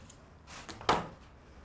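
Scissors cut through a paper or fabric pattern in two or three short, close snips, with a soft rustle between them in a quiet room.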